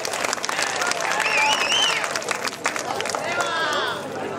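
Audience applause rises and fades at a traditional Tamil stage drama, a Sri Valli Thirumanam play performed in a Madurai village, with clapping mixed with crowd voices and shrill whistles over a few seconds.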